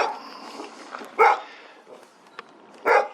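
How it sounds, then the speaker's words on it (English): A neighbor's dog named Boulder barks in a yard, two short sharp barks spaced about a second and a half apart, moderately near, with quiet outdoor background between them. "That's our neighbor Boulder barking"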